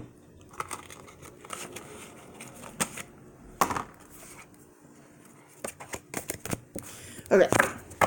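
Playing cards handled up close in a shuffling, clattering flurry, with sharp riffles and snaps coming in bursts and a person speaking intermittently.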